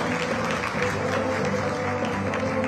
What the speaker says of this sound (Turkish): Alkışlarınızla.